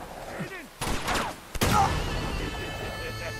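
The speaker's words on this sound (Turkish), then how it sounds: "Oğlum, ne pompalı tüfek yedim be." Shotgun blasts in the video game Uncharted 2, two sharp loud bursts about a second apart, followed by a lingering rumbling tail and faint game ambience.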